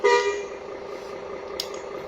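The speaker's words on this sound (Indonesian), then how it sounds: "Klakson biasa." A regular vehicle horn from a bus fitted with a basuri horn set gives one short loud honk, then a lingering fainter ring with a brief click near the end, heard close and without talk.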